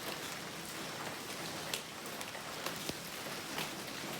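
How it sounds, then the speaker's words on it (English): Torrential rain pours down in an Italian village, a dense continuous hiss of falling water with scattered drips and splashes, heard alone. "5 minutes after the pouring down rain, thunder and lightning, it all disappears."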